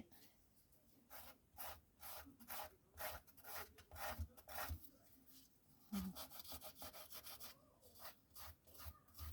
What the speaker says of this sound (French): Avec la lime, ça va tout de suite mieux.